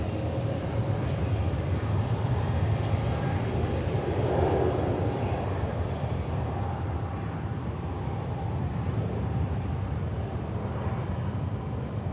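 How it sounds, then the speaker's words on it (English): Spirit Airlines Airbus A320neo jet taking off at Dallas Fort Worth airport, a steady broadband engine roar holding at a fairly constant level throughout, moderately distant, with no talk over it. "Spirit Flight 8802. It's an Airbus A320neo."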